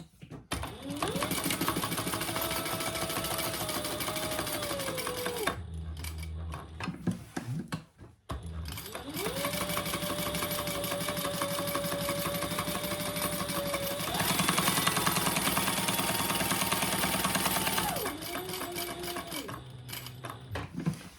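A sewing machine stitches pockets onto a fabric caddy, humming in two long continuous runs with a brief pause and rustle of fabric between them.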